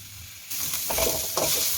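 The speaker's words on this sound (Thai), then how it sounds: "หมูของเราละลายน้ำมันก็เริ่มออกแล้วนะคะ" Pork belly frying in a pan as its fat renders, a loud close sizzle that swells suddenly and surges again as the pieces are stirred, with no voices.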